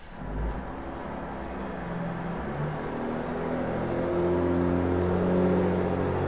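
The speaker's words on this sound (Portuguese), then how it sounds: "Passando um caminhão aqui perto de casa" A truck passes near a house: a low, steady engine drone that slowly swells and grows fuller toward the end, with no one talking.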